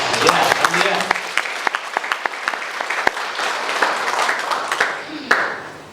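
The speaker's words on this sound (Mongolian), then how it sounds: "Алга ташд эзэн талархлаа" Congregation applause fills a church service, dense steady clapping with a few sharper individual claps standing out, sustained for several seconds with faint voices underneath.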